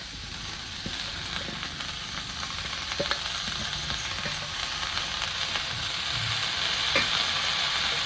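Washed fenugreek leaves dropped into hot oil with an onion masala mixture, a steady close sizzle and hiss with occasional stirring scrapes throughout, no voices.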